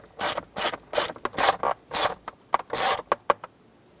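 A ratchet drives screws into the plastic center console of a 2007-2014 Chevrolet Silverado 2500HD, producing a close, loud series of rhythmic ratcheting clicks in quick repeated strokes, then a few shorter clicks at the end.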